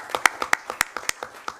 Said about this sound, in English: let's do a little clap for them